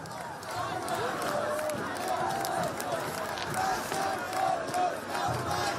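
A dense crowd of football fans celebrates in a Telavi street after Georgia's national team qualifies for the European Championship, with continuous loud shouting, chanting voices and general clamor.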